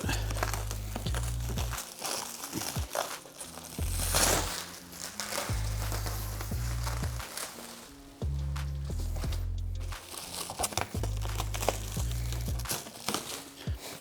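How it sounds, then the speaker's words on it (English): Plastic wrap is crinkled, torn and cut off a new rooftop tent outdoors in winter, with continuous crackling and tearing sounds close up over a steady low rumble, likely an idling truck engine, and a sharper rip near the middle. "Now I'm gonna cut this saran wrap off"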